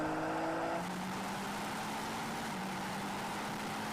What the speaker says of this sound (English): BMW M4 CS takes the lead over the M8 in acceleration.